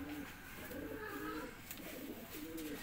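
A red pigeon of an old breed, a race winner, gives soft repeated throaty coos in a low rolling rhythm, close by and alone without talk.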